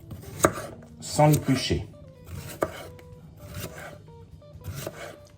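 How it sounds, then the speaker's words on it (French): Cucumber being cut into thin slices with a knife on a cutting board, several distinct chopping strokes at an uneven pace with a voice speaking briefly among them. "Et je le coupe en tranches fines,"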